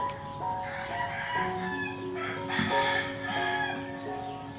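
Chickens in a neighbour's coop at a rural home in the morning, with a rooster crowing in long drawn-out calls and hens clucking, moderately distant over a steady background.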